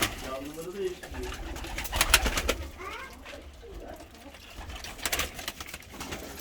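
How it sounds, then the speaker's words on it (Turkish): Pigeons coo in a backyard coop, soft repeated calls under frequent nearby talk in Turkish, with rustling and handling noises around them. "Güzel kuşlar."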